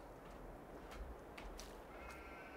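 A horse on a farm in Farming Simulator 22 gives a few faint whinnies over quiet background noise, short separate calls with no speech.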